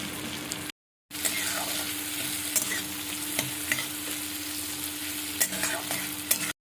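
Chopped green chillies and ginger sizzle steadily in hot oil in a pan, a continuous close frying hiss with occasional stirring knocks and a brief gap near the start.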